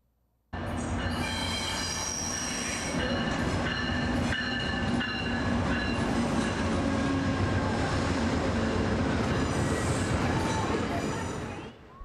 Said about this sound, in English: here's a video clip about passenger trains.